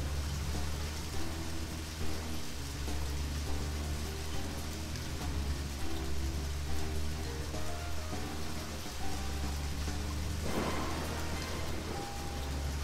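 Steady rain falls in the Deadly Premonition video game, a dense, continuous wash with a low engine-like rumble beneath it.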